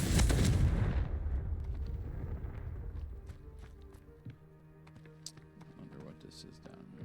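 In the video game Hogwarts Legacy, a Confringo blasting spell bursts loudly at the start, then fades into a decaying rumble. Scattered small clicks and footsteps follow.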